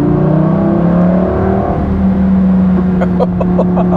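A Lamborghini Gallardo Superleggera engine drones loudly with sliding, rising and falling harmonic tones, then sharp popping crackles near the end, and no talking.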